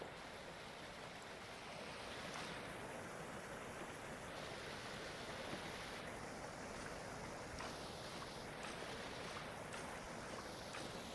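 Strong water flowing in the video game Vintage Story, a steady, dense rushing wash that holds loud and unbroken throughout, with no voices over it.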